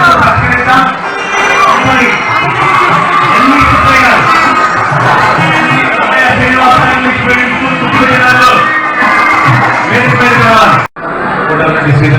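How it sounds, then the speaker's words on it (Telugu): A large audience at a private school association event claps and cheers loudly and steadily, children's shouts and yells mixing into the dense crowd noise, with a brief dropout near the end. "గట్టిగా చప్పట్లు అభినందనలు మీ అభినందనలే వారి అవార్డులు"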